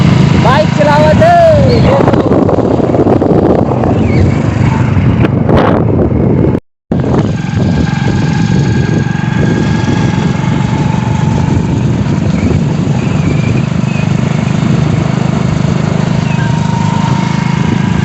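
Motorcycle engine drones steadily during a ride, mixed with heavy wind rush and broken once by a brief dropout, loud and close throughout with no gaps.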